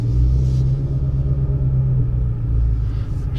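A Ford GT500 idles with a deep, steady engine and exhaust rumble, loud and close, holding a constant low drone throughout with no talk.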